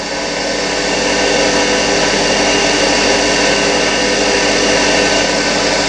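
A diesel engine crankshaft being machined, taking a quarter-millimetre cut: a steady, loud, unbroken cutting and whirring drone that holds level throughout, with no voices.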